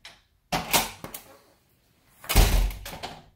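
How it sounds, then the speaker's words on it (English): A hurricane door at a beach bungalow has its handle lifted to engage the pin and its tumbler turned to lock, giving a few close metallic clunks and rattles, then a heavier thud near the end. "lift the handle upwards. That will engage the hurricane pin and allow the tumbler to engage"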